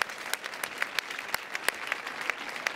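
Audience applause at a talk: steady, dense clapping from a crowd with a few sharper claps standing out, fairly close and without speech.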